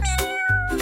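A single clear, close meow from a small cat, drawn out and bright, heard alone.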